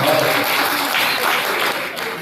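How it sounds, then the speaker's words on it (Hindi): Audience applause fills the room at an All India mushaira poetry gathering in a library hall in Malegaon, a dense burst of close clapping that fades slightly toward the end. "उनके लिए आप लोग एक मरतबा जोरदार तालियां बजाएं।"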